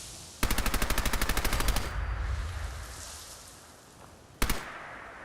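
Fallout 4 gunfire in the Far Harbor setting: a fast, evenly spaced automatic burst lasting over a second, a stretch of ambient rumble, then a second short burst, all close and loud.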